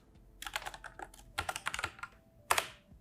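Keystrokes on a computer keyboard while a level name is entered in a game editor, coming in quick bursts of close, crisp clicks separated by short pauses, with one final sharp tap at the end.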